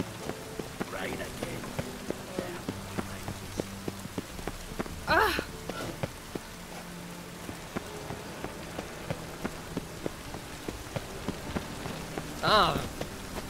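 Steady rain pattering on surfaces in The Witcher 3, a fine constant patter with scattered drip ticks, a couple of brief louder bursts standing out, fairly soft under the game sound.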